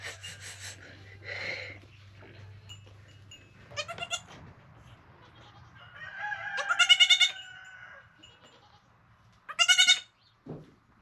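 Baby goat on a homestead being bottle fed, giving several short, high bleats spaced a few seconds apart, close and clear, with a low hum beneath and no talk.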